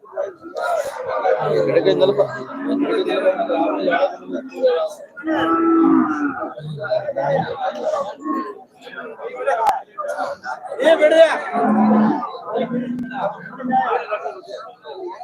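Cattle moo repeatedly at the Melapalayam cattle market, several deep drawn-out calls close by, mixed with people chattering and market murmur throughout.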